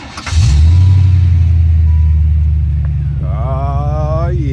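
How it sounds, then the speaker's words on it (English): A Chevrolet Caprice Classic with a Flowmaster Flow FX exhaust starts with a sharp rev into a deep, loud, rumbling idle, followed by a brief rising and falling rev near the end. "the exhaust really just woke the car up that much"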